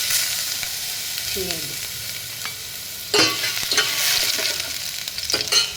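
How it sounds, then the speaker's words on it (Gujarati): Chopped garlic hits a spoonful of hot ghee to temper tomato soup, giving a close, bright sizzle that flares up sharply midway, with light stirring clinks and spoon scrapes. "સૂપ વઘારવા માટે આપણે આ એક ચમચી ઘી લઈ લીધું છે ઘી ગરમ થાય એટલે આપણે એની અંદર નાખી દઈશું"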